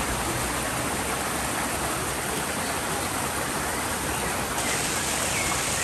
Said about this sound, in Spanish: El sonido del agua y de los pajaritos es una combinación perfecta.